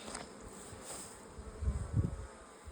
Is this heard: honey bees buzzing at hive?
yes